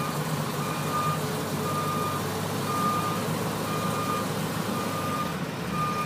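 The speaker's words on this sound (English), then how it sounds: "then you want to put the bus in reverse, look, and then you're going to back the bus back through those cones." A school bus reversing through a line of cones gives off steady, evenly spaced backup beeps over a continuous low engine rumble. The sound is close and moderately loud, with no talking.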